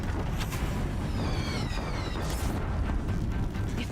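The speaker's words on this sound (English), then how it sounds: "If the Deathbringers keep firing, this bridge will go." Deathbringer war machines firing in Horizon Zero Dawn near a bridge, a dense rolling barrage of explosions and booms merging into a constant loud roar with crackling bursts.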